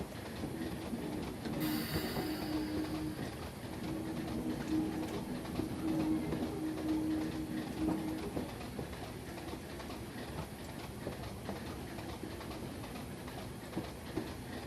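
A train rolling along the Weardale line in Train Simulator, with a steady rumbling drone throughout and bird coos over it.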